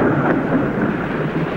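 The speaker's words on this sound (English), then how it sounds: "That machine create a rain." Rain with rolling thunder set off by a machine in the video game Limbo, a steady broad roar that fills the short clip at full loudness with no voices.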